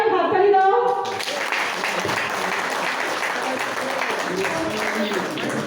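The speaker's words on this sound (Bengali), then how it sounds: "সবাই হাততালি দাও।" A crowd at a gathering breaks into sustained applause, many hands clapping in a dense, even wash that follows a brief voice at the start.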